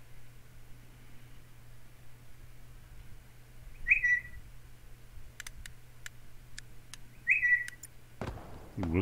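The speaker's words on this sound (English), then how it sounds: "No, that was my text message from Leo" A text message notification whistle plays twice, several seconds apart, each a short bright rising-falling tone over a faint steady hum and quiet keyboard clicks while playing Hell Let Loose.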